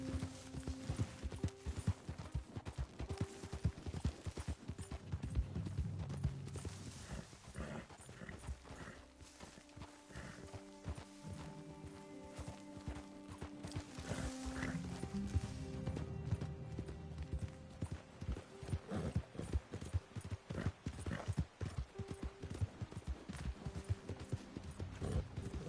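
A horse's hooves clopping at a steady pace in Red Dead Redemption 2, with a continuous rhythmic patter over game ambience and music, a soft whinny at one point, and no speech.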